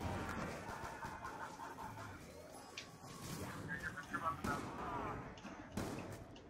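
Zombies video game battle with gunfire cracks and a grenade blast, dense clattering shots and booms layered over game noise, moderately loud throughout.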